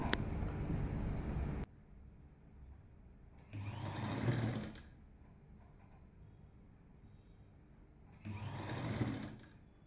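A sewing machine stitches the shoulder seam of a lined jacket in two separate bursts of steady, fast mechanical whirring, each about a second long, with quiet gaps between them and no talking.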